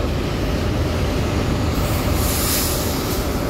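A Hino RK280 tour bus with an SR3 body, run by the Gumarang Jaya Pariwisata coach line, produces a loud, steady roar of engine and road noise that holds evenly for the whole stretch, with no voices.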